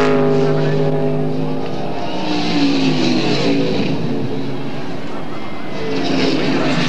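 NASCAR stock cars roar past at Sears Point Raceway during the 1998 Save Mart Kragen 350, engines rising and falling in pitch as they pass, loud and close under an excited commentator's voice.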